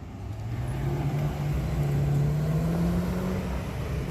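A Pagani Zonda Pista supercar rolls past at a Texas car show, its engine a continuous loud drone that climbs slowly in pitch over a broad rushing roar, with no talking.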